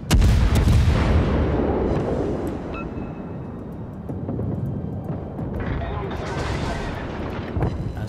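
Secondary guns on a Tier VI premium cruiser in World of Warships firing in a battle, heavy booming volleys that roll and echo over several seconds, with someone talking over the gunfire.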